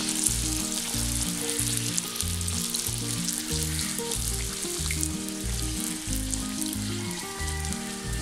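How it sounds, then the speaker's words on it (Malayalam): Puri dough rounds fry in hot oil for a Kerala poori masala, giving a steady, loud, close sizzle with crackling bursts throughout and no talking. "ഇതിങ്ങനെ തിരിച്ചു മറിച്ചു നോക്കിയിട്ടൊന്ന് ഫ്രൈ ചെയ്തെടുക്കാം."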